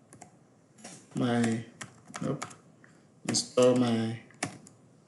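Quick bursts of keystrokes on a computer keyboard as a command is typed into a terminal, close and crisp, alternating with someone speaking.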